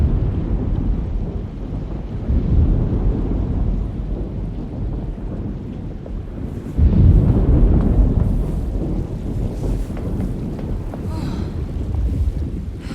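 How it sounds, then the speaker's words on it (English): Thunderstorm rumbling in the video game Alone in the Dark, with low, heavy rolling thunder and wind noise throughout and a louder surge of rumble about halfway through, no talking. "Looks like a storm's coming."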